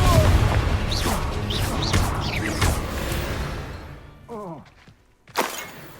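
A Confringo fire spell in Hogwarts Legacy bursts with a sharp blast after a stretch of busy combat noise and talk, ending in a short crackling flare.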